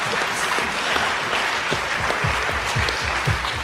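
A crowd claps steadily, dense and fairly loud, with some heavier rhythmic beats coming through in the second half and no talk over it.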